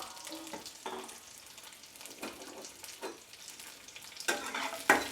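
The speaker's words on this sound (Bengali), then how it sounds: "দিয়ে এটা আমি 2 থেকে 3 মিনিট ভালোভাবে নেড়ে ছেড়ে একটা গোল্ডেন কালার নিয়ে আসবো পেঁয়াজটার মধ্যে" Onion petals with two pieces of ginger and six garlic pieces frying in a pan. Several scattered spoon scrapes and clinks sound over a quiet sizzle that grows louder toward the end.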